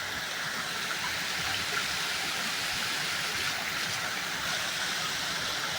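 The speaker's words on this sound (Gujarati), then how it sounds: "હા, પાણીના ફુવારા થાય છે." Water fountains splash steadily at the Statue of Unity site in Kevadia, a continuous broad rushing spray that holds evenly throughout with no talk.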